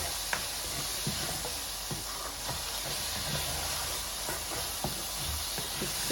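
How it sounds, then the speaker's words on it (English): Meat sizzling in a pan after a spice blend goes in for biangbiang noodles, a soft continuous hiss broken by occasional scraping knocks of stirring, fairly quiet and steady, with no voices. "our meat's cooking, and we're gonna add our spice blend"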